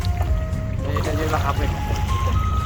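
A boat on the Jamuna river runs with a steady low engine drone and faint water sounds, close and continuous, while people talk over it.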